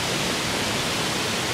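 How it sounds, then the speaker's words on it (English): A waterfall on a hiking trail at Glendale Shoals Greenway and Preserve roars as a loud, dense, unbroken rush that fills the whole moment. "A nice view to the waterfall."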